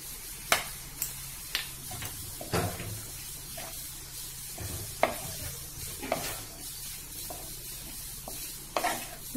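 Paneer bhurji with finely chopped coriander and salt is stirred and mixed in a pan, a spatula scraping in steady strokes with sharp taps against the metal over a soft background sizzle.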